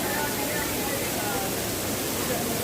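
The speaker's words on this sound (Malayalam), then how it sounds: "ഏകദേശം അത്യാവശ്യം ഉയരങ്ങളിൽ നിന്നാണ് ഈ വെള്ളച്ചാട്ടം" Erachilppara waterfall near Kanthalloor pours from a height, giving a loud, continuous broadband roar of falling water that fills the scene without letup.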